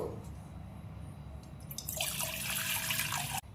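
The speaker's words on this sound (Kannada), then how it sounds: "ಇಲ್ಲಿ ನಾನು 1 ಕಪ್ ಆಗುವಷ್ಟ ನೀರು ತೊಗೊಂಡೆನು" Water poured into a cooking pot for jowar roti makes a bright splashing gush of about a second and a half that stops abruptly, after a quiet kitchen background.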